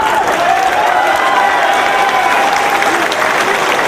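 A large arena crowd at a professional wrestling match in Dayton applauds and cheers continuously, a dense, loud roar of clapping with no break.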